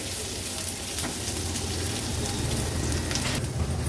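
Green chili, ginger and cashew pieces sautéing in a pan, a steady close sizzle and crackle with light scraping of stirring, continuous throughout and without talk.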